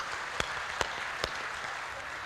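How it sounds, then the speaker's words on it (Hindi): An audience at a comedy show applauds a guest, a faint and steady wash of clapping with a few sharper claps standing out close by. "एक बार जोरदार तालियां आदरणीय गुरुवार के लिए बजा दियो।"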